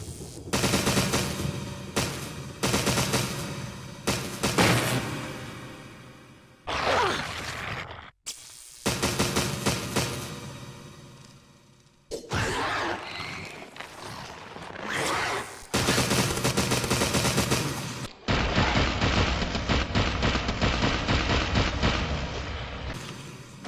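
In Resident Evil REmake, a stun gun zaps a zombie, giving loud, harsh electric crackling in several sustained bursts of a few seconds each, separated by short breaks.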